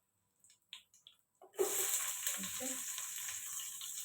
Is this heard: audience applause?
no